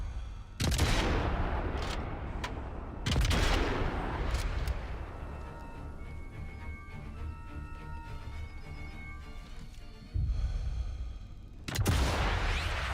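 Sniper Elite 5 gunfire rings out in sharp, loud single rifle reports, three or four spaced shots with echoing tails, and quieter game ambience with faint tonal effects fills the gaps between them.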